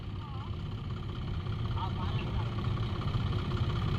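A tractor stuck in mud gives off a steady, low engine rumble that grows slightly louder as it strains, while people talk over it.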